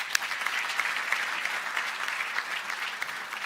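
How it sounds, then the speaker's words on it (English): Conference audience applause at a national space conference opening session, a dense patter of many hands clapping at a moderate, even level for several seconds. "Let's give him another round of applause."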